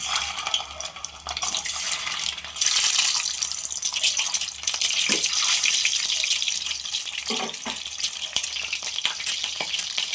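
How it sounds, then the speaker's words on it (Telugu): Peeled boiled eggs fry in hot oil for a spicy egg masala, giving a steady, close sizzle and crackle with occasional soft stirring clicks throughout. "వేసుకొని ఉడకబెట్టుకున్న గుడ్డులని నూనెలో వేసుకొని ఫ్రై చేసుకోవాలి"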